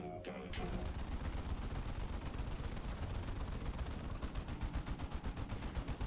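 Automatic gunfire from units in the strategy game Dawn of War, sounding as rapid, sustained bursts that are fairly faint and distant, with a brief pause near the start before the fire continues steadily.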